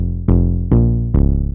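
A warm, almost analog-sounding synth bass preset named Breathing from the Voyage pack, built from a saw wave with a square-wave sub, plays three loud, evenly spaced notes, each with a sharp attack and a slow decay, alone.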